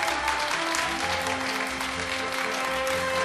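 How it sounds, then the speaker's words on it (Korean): An audience at a 2013 baseball defensive awards ceremony applauds left fielder Kim Hyun-soo, a dense, even wash of clapping over steady background music, loud and unbroken throughout. "김현수 선수 큰 박수로 맞아주시길 바랍니다"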